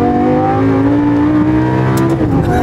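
A Lamborghini Gallardo revs hard under acceleration from inside the cabin, a loud, close engine note climbing steadily in pitch before dropping sharply at a gear change, with no talking.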